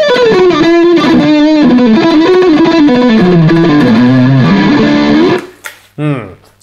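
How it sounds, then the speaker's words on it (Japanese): An electric guitar played through a Zoom G2 Four effects unit with heavy distortion rings out in a sustained lead melody, loud and close, then cuts off abruptly, followed by a couple of short bursts. "すごい歪みの質感がなんか弾いてて楽しい感じがしますね。"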